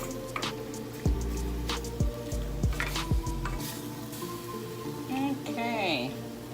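Seasoned steak for street tacos sizzles steadily in a hot pan, a constant frying hiss with a few metallic scrapes and taps from stirring, while a person speaks over the cooking.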